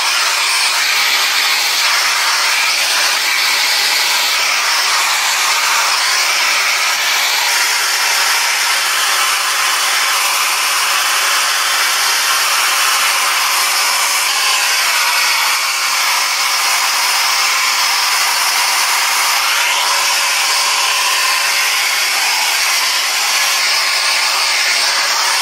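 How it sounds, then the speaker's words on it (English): A Babyliss Pro Speed 2200 watt hair dryer blows continuously while drying hair, giving a loud, steady close-up whoosh of airflow with slight shifts as the dryer moves. "I'm going to use my Babyliss Pro Speed, and this is in the 2200 watt"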